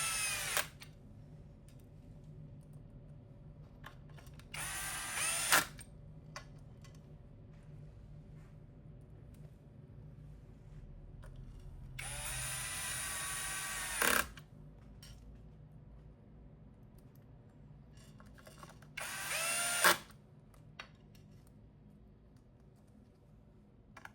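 Power driver running in short bursts to fasten screws on the ESC of a Floatwheel ADV2 electric board, three whirring pulses of a few seconds each separated by quiet gaps, close and moderately loud.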